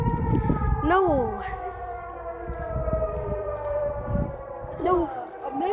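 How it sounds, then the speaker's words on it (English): An American tornado siren test, with a long, sustained wail that has rich harmonics and rises and falls twice as it rotates, while children talk over it nearby. "American tornado siren, but it's Yeah. war siren actually."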